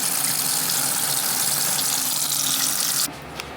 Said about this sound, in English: See, the water goes through here and comes out filtered through here.